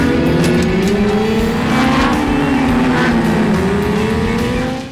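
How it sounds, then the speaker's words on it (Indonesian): A racing motorbike ridden hard around an asphalt circuit, its engine a loud continuous high-pitched whine that rises and dips as it accelerates, close and steady throughout. "Tang yang udah lama gak menyentuh aspal sirkuit pun langsung mencoba motor yang baru dia beli"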